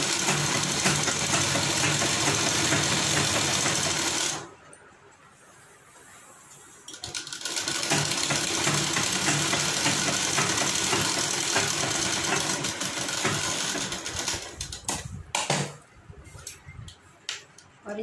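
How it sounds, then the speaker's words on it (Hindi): An electric sewing machine stitches a hem along folded fabric in steady, rapid mechanical bursts, pausing briefly near the start before resuming continuously, with a few stops toward the end; close and fairly loud, no talk. "पैर का मार्जिन देते हुए इस पर एक सिलाई चला लेंगे।"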